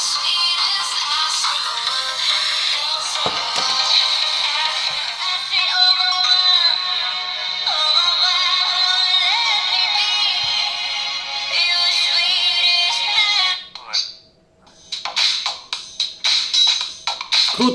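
Bright, tinny music plays from a smartwatch's small speaker for most of the stretch, then cuts out briefly before resuming in choppy bursts.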